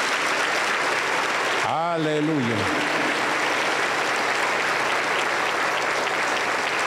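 A church congregation applauds loudly and steadily throughout a Pentecostal service, with one voice briefly calling out early on over the clapping.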